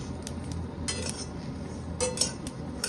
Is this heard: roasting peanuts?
yes